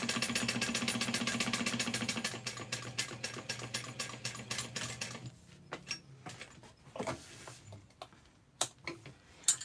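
A sewing machine stitching the final seam of a quartz clutch runs in a fast, even, close run of ticks that stops midway, followed by scattered light clicks and handling noises.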